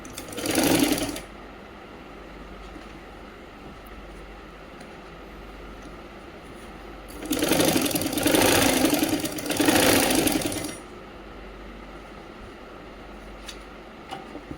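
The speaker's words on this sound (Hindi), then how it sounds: "बिल्कुल किनारे से सिलाई लगा दीजिए।" An electric sewing machine stitches Patiala salwar fabric in short bursts, a brief run at the start and then two longer rhythmic runs close by, with quiet pauses between them.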